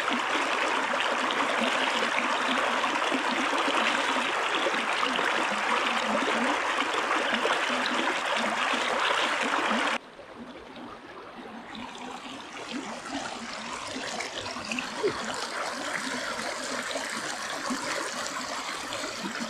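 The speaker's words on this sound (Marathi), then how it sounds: "निवांत खळखळ." A jungle stream near Kuderan waterfall gurgles and rushes continuously, close and fairly loud, with a sudden shift in tone midway as the flow sounds nearer and softer, and no voices.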